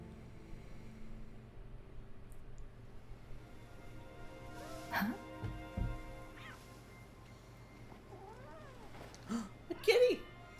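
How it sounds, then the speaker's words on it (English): In the video game Wuthering Waves, a cat meows several times in short, drawn-out cries against a quiet ambient background, with a person talking over parts of it. "A kitty!"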